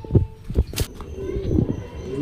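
Pigeons in a crowded loft give low, throaty coos in short repeated bursts close by, with a voice talking over them.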